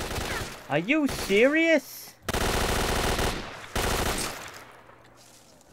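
Automatic gunfire in the STALKER video game, long loud bursts of rapid shots that sweep through the sound and then fade, with someone talking excitedly before the shooting starts.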